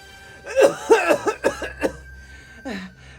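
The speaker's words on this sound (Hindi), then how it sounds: "जोर से खांसी होय लगई है" Several harsh coughs in quick succession, close by, followed by a short pause and one more cough.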